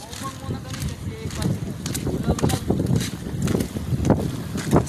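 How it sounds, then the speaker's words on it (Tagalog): Strong wind buffeting a small fishing boat at sea before heavy rain, a steady roaring rumble with gusty surges, heard close under a voice speaking. "Malakas ng hangin, master."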